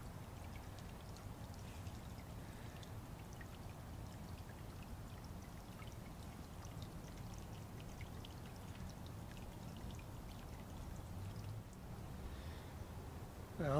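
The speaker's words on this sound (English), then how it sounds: "Very relaxing sitting out here on the patio watching and listening to the water." Water from a patio fountain runs and splashes steadily and continuously at close range, a soft even pouring and trickling with no voices over it.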